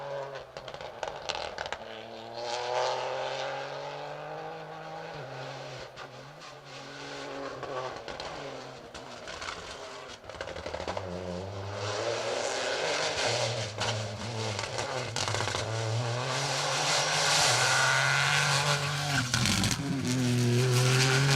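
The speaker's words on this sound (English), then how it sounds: "Are we going to hear the 208 next of Kyle White and Sean Topping?" A Peugeot 208 rally car at speed on an asphalt rally stage at Rally Ceredigion, engine revving and surging through gear changes as it passes, loud and continuous with tire noise, no talk.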